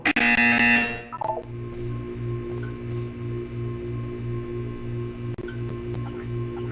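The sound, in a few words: buzzer in the video game Portal 2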